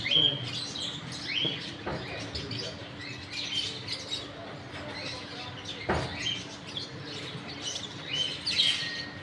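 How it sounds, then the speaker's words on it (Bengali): Morning birdsong: scattered high chirps and tweets from several birds rise over a steady, hissy outdoor background throughout, moderately distant and fairly faint. "সকালবেলার পাখির ডাকগুলো শোনাচ্ছি। পাখি কি সুন্দর ডাকতেছে"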